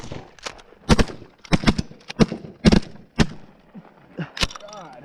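Shotguns fired while hunting birds outdoors, several loud sharp cracks spaced irregularly across a few seconds, with voices talking in between.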